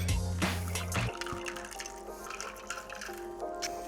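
Espresso martini cocktail poured into glasses, a thin liquid trickle and drip after an opening clink, soft and close, with a quiet tonal background and no speech.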